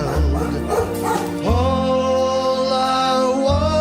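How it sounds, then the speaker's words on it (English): A dog barks in quick bursts, then lets out a long, rising whimpering howl that holds for a couple of seconds. "Can't they hear their dog barking so wild?"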